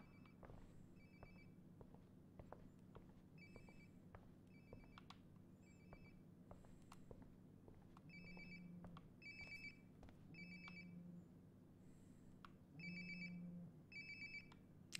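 In Life Is Strange: Before the Storm, a distant-sounding phone trills again and again in short electronic ring bursts, faint against a low game ambience with scattered small clicks and no voices.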